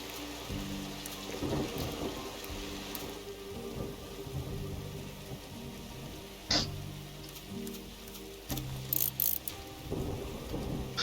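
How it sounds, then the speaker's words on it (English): Heavy rain pours steadily through a video game thunderstorm, with low rolling thunder rumbling throughout and a few sharper cracks standing out near the end; no voices. "Storm rages."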